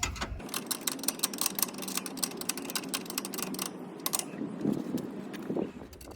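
A ratchet socket tightening bolts on a Redarc dual battery kit in a Toyota Hilux N80, rapid ratchet clicking in close, steady bursts with brief pauses, loud and alone without speech.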